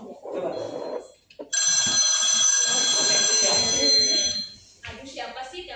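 A telephone rings indoors during an office-style roleplay. A loud, continuous electronic bell rings for about three seconds, with voices talking just before and after it.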